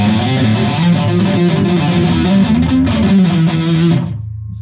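A heavily distorted electric guitar plays a loud, sustained legato line close up and fills the clip. It is cut off abruptly near the end, leaving a low hum.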